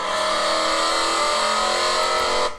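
A race car holds a loud, steady engine note on the throttle through a corner, heard close and continuous with dense harmonics before cutting off abruptly.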